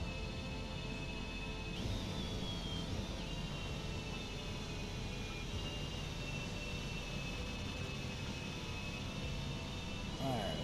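A steady, loud roar from the thrust reversers of a Citation X business jet in the FlightFX flight simulator, with a whining engine tone holding throughout.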